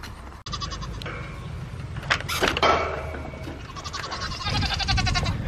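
Goats bleat several times nearby, with overlapping nasal cries scattered across the moment and some rustling and shuffling in between.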